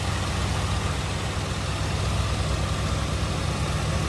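1984 Oldsmobile 98 Regency with low mileage, engine idling in a steady, low, even hum with no talk.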